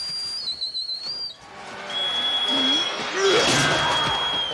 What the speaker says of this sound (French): le sifflet qui produit le même son que celui dans Mad Max 3